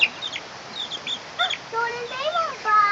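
Chickens in a coop give soft clucks and higher squawking calls close by, with voices talking over part of the sound.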